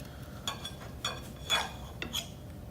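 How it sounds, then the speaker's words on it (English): Steak being eaten with a knife and fork, giving a few quiet, separate clinks and scrapes of cutlery on a plate at about half-second gaps, close by in a quiet room. "So I thought I would eat my steak and talk to you guys."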